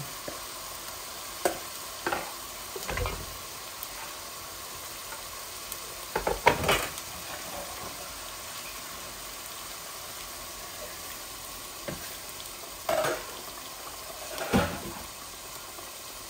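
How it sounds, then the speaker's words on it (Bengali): Chicken pieces, including breast, fry with onion and garam masala in a pan under a steady, quiet sizzle, broken by occasional scraping stirs and soft clatters. "আমি চিকেনটা আগে দিয়ে দিয়েছি।"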